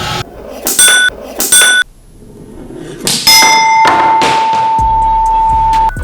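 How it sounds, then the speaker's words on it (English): A wine glass is struck repeatedly by a powerful gadget without breaking, giving sharp bright dings and clangs that ring out with sustained tones, then a long pure ringing note that lingers after heavier hits. "The wine glass was proving harder to break than expected"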